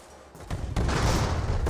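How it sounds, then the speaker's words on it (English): Explosions on airships in the game Airships: Conquer the Skies, a low rumbling boom that swells and sustains briefly, muffled and moderately loud. "The explosions are real."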